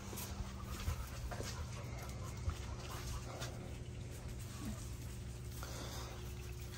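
Rescue dogs pant, snort and shuffle quietly while playing together, with faint irregular breathing and soft whimpers over a low steady background hum.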